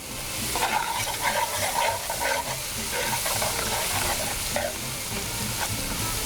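Paya (goat trotters) being fried and stirred in a pan for paya masala, with steady close sizzling and repeated scraping stirs throughout, no talk.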